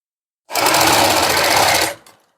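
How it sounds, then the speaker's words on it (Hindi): An electric sewing machine stitches a folded half-inch neckline strip on a suit, a single loud, steady whirring run of about one and a half seconds that starts abruptly and winds down quickly. "इसके ऊपर आपने चलानी प्रेस सिलाई।"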